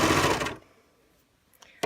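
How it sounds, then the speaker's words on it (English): A sewing machine stitching around the edge of a fabric gusset runs in a loud, close, steady burst for about half a second, then stops, followed by a couple of faint clicks. "So we'll just stitch around."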